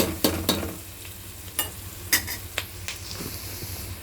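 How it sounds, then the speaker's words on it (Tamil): Onions sautéing in a pan, stirred with sharp scraping clicks scattered over a low steady sizzle, no voices. "லைட் கோல்டன் பிங்க் கலர் வந்துச்சு. வெங்காயம் வதங்கிச்சு."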